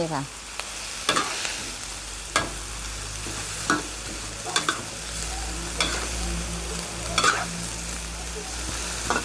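Sun-dried pork stir-fried with scallion flowers and spring onions in a pan, a steady close sizzle broken by repeated sharp clacks of the spatula against the pan.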